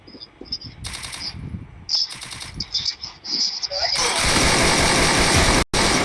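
Rapid bursts of automatic rifle fire in the Free Fire battle game, several short clattering volleys early on, then a sustained loud stretch of shooting, with players talking over the action.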